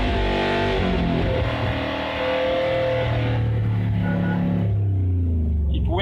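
A Subaru engine with a faulty distributor revs at wide open throttle, a loud, steady engine drone with rising and shifting harmonic tones throughout, up close.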